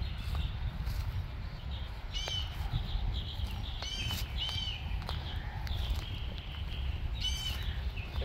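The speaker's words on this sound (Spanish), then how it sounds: "Pueden escuchar ahí los pajaritos cantando." Several short bird chirps ring out in brief bursts, separated by pauses, over a constant low outdoor rumble on a ranch in Jewitt, Texas.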